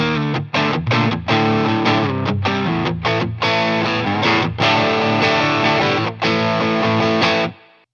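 Squier Paranormal Cabronita Telecaster electric guitar on the middle pickup position through overdrive, loud distorted rock chords strummed in choppy bursts with brief gaps, ending in a ringing chord that cuts off.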